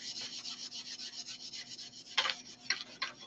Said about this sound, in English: we're gonna take my little sanding sponge, and we're gonna lightly sand over the top of it